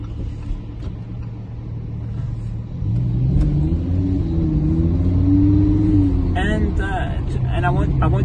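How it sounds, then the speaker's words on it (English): Lamborghini Huracán LP610-4 engine revving while driving, a low rumbling drone that rises in pitch as it accelerates, with someone talking over it near the end. "Can you hear how the engine comes to life?"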